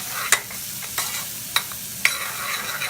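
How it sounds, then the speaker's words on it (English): Steady sizzling of tofu frying in a pan, with a few sharp clicks as it is stirred or nudged, close up. "So just frying that up."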